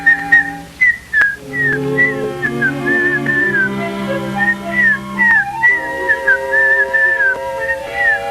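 Someone whistles a melodic tune at close range, clear rising and falling phrases running steadily through the clip with brief pauses between them.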